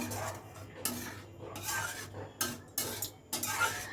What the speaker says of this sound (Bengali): আবার সব কিছু ভালো করে মিশিয়ে দিলাম।